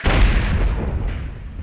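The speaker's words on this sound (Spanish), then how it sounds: "Yo ahora mismo aquí, si toco, tengo una explosión." Explosion sound effect triggered from a multipad button on a Yamaha Tyros keyboard: a single loud, close boom with a sharp onset, then a rumbling decay lasting over a second, with no voices.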